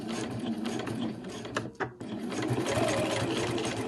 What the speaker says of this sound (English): We're going to sew all the way around, all the way around the outside edge of the cushion and stop at our other tab